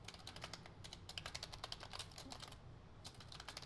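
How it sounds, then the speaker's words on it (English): Steady computer keyboard typing while coding in Unreal Engine 5, a dense run of quick clicks and key taps at close range with a brief pause partway, no voices. "I'm going to stop typing spaces."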